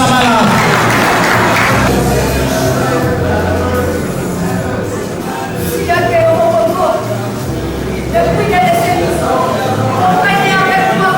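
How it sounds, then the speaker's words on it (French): An audience applauds a poet at a slam poetry competition semi-final, with steady loud clapping throughout and a voice speaking over it. "applaudissons très fort pour Louane Kamara"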